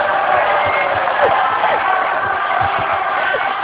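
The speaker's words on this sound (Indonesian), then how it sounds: "Kita berikan aplaus dulu untuk semuanya ya" A live crowd at a televised election candidates' debate on TV One claps and cheers steadily throughout, a dense continuous roar of applause with scattered whoops, close and loud.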